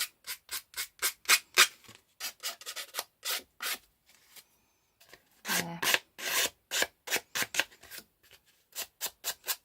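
Paper edges smoothed by rubbing with fine sandpaper, a close series of dry rasping strokes in quick rhythmic bursts, pausing briefly midway before resuming, with no talking.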